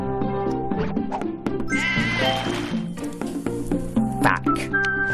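Cartoon sheep in the puzzle game Divide By Sheep bleat repeatedly, loud and close, several overlapping calls in quick succession with game sounds around them.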